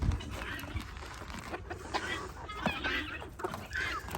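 Chickens and guineas cluck and chatter around a farmyard, a busy overlapping mix of nearby clucks and calls with scattered bursts throughout.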